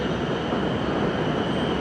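An elevated electric train passes over a Thai city street, a steady broadband rumble and rush that holds evenly throughout, close and loud, with no voices.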